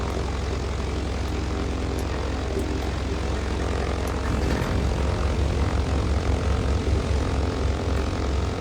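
Both piston engines of a Britten-Norman BN-2 Islander run in Microsoft Flight Simulator, a steady propeller drone that deepens and pulses more strongly midway as the engines settle, loud and continuous with no talk.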